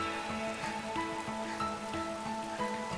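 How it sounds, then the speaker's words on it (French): Rain from a Makoto Shinkai animated film scene, a steady wash of falling rain beneath a prominent piano-like melodic score, continuous and moderately loud with no voices. "Seule la musique et la pluie résonnent"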